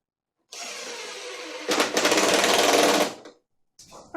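Driver sinking ordinary wood screws into a wooden table saw fence wing: a steady motor whir that turns harsher and louder as the screw bites, then stops, with a brief restart at the end, close and alone.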